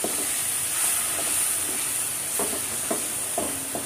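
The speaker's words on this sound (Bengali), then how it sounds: "এখন মশলাটা অলরেডি ভাজা হয়ে গেছে।" Spice masala for a Bengali potato curry, loosened with a splash of water, frying in a pan with a steady hiss and steamy sizzle, broken by a few light stirring scrapes near the end.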